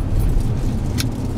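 A car drives along a road in Puerto Rico toward the El Yunque rainforest, heard from inside as a loud, steady low rumble of engine and road noise with a faint brief jingle.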